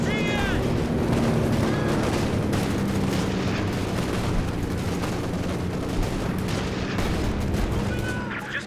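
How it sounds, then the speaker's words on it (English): Continuous barrage of shell blasts and gunfire in a Company of Heroes 2 4v4 match on the Nordwind map, dense, loud and rumbling throughout with overlapping impacts. "Major artillery coming down"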